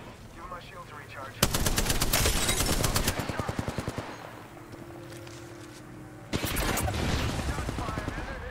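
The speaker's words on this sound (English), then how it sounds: "Shots fired, and they're hitting me" Gunfire in Apex Legends: two loud sustained bursts of rapid automatic fire, separated by a quieter stretch with a brief tonal game effect, with voices talking over parts of it.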